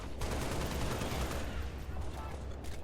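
Gunfire in the video game Halo Infinite, a dense, continuous stream of rapid shots that stays loud and steady throughout, with a voice faintly present underneath.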